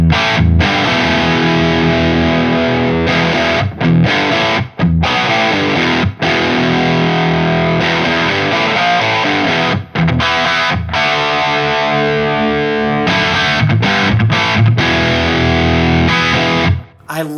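Electric guitar played directly through a Synergy 800 amp module, heavily distorted and thick with deep low end, chords ringing loud and sustained with only brief breaks between them.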